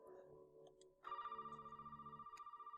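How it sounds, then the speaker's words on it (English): Telephone ringing in the horror video game Resident Evil 7, a steady electronic ring with a rapid pulsing tremolo that starts after a second of faint background and continues evenly, fairly quiet. "Oh, but the phone is ringing."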